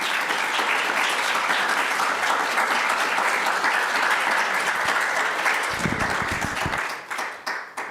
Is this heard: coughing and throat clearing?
no